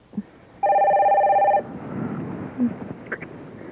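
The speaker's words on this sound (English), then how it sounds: "You should get the phone." A telephone bell rings once in a single steady burst of about a second, fairly loud and close, followed by quieter room noise and faint movement.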